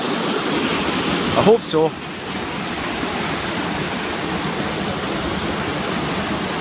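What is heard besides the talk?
Cotter Force waterfall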